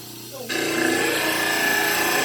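A power trimmer grinds a dental model in a dental lab, switching on after a short quiet moment and then running as a loud, steady whirring grind to the end.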